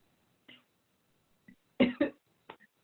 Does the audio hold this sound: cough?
yes